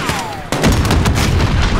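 Bursts of loud gunfire from troops in the Call of Duty Modern Warfare video game, a rapid cluster of sharp cracks following a falling whistle, close and dense with no talk.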